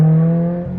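A 2022 Subaru BRZ with a new catback exhaust holds a steady rev, a smooth humming drone that tapers slightly near the end, brief and without audible pops.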